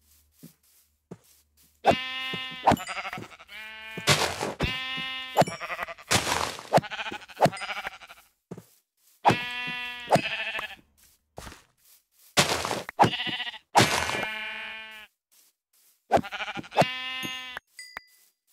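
Sheep in the Minecraft video game bleat repeatedly in short clustered bursts separated by silent gaps, loud and close with no talking over them.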